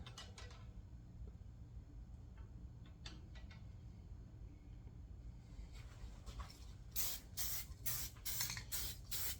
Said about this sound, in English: Try to keep spraying in the